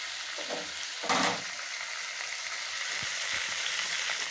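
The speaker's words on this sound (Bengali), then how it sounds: "দিয়ে পুরো জিনিসটাকে আমি আরেকটু ভালো করে নাড়াচাড়া করে নিচ্ছি।" A whole onion and carrots being stirred into a chicken stew in a pan: a steady bright frying hiss with one louder scrape of stirring near the start and a few soft knocks later, close by and no voices.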